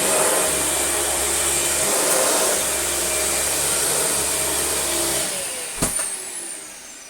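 A Dyson DC40 upright vacuum cleaner runs loudly and steadily with a high whine, then shifts and begins to wind down near the end.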